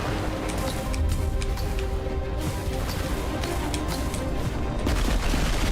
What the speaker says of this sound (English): Everything is exploding.